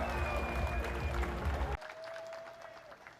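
Applause from the crowd at the final of the 2025 Hanoi Open pool championship, a steady wash of clapping that cuts off partway and drops to a thinner, quieter patter with a tone running through it.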